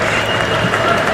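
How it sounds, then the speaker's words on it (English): Cricket crowd at a West Indies v England one-day international cheering a clean fielding stop, a broad steady roar with scattered applause running throughout the moment. "that cheer is because Carty, one of the main culprits, fielded that one cleanly"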